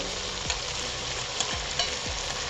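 Four crumbled eggs stirred in a frying pan for homemade chicken Schezwan rice, a constant dense sizzle with three distinct spatula knocks or scrapes spaced about a second apart, close and alone.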